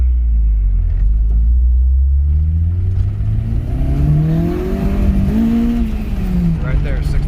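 A car engine with two broken valve guides revs hard in second gear, its loud droning pitch climbing toward 6,000 RPM before it stumbles and cuts out, then picks back up.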